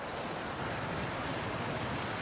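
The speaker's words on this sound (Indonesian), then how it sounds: "Angin kencang disertai gelombang tinggi antara 2 hingga 4 meter menerjang pesisir perairan laut Kolaka" A steady, dense roar of high surf and strong wind pounds the coast of Kolaka, Southeast Sulawesi, with 2 to 4 metre waves near a ferry pier, continuous and loud with no voices.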